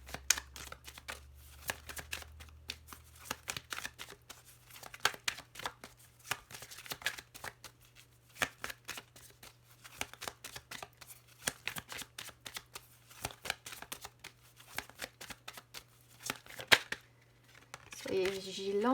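Oracle cards shuffled and cut by hand, a steady run of crisp riffling snaps and flicks close to the microphone, with a low constant hum underneath and a brief rustle near the end.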